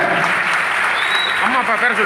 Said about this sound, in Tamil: அவருக்கு ஒரு நல்ல கரகோஷம் போட்ட